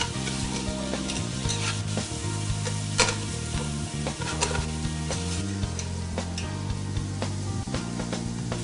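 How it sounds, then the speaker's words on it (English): Chopped onions are stirred and sautéed in a hot pan, with a continuous sizzle broken by frequent scraping strokes of a utensil against the pan, close and clear, with no talking. "I'm just going to stir these and saute them for about 4 to 5 minutes until the onions are tender."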